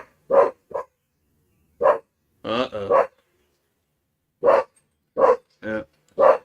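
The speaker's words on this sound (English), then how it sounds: "Don't you be barking" A dog barks close by in a series of separate sharp yaps and short whimpering calls with silent gaps between them, and a person briefly speaks among the barks.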